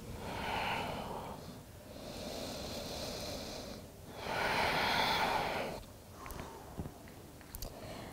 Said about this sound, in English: Nice, long, smooth, deep breaths.